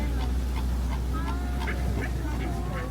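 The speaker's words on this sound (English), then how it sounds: "There's ducks over there," Ducks honk and quack repeatedly over a constant low rumble, calls spaced about every quarter second and fairly close, at a wildlife safari park.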